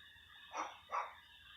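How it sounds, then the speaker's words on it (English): Two quick, faint barks from dogs outside, spaced about half a second apart and heard at a distance over a quiet indoor background. "Dogs outside barking, of course."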